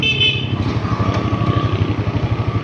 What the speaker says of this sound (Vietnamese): chúng ta sẽ nổ máy lên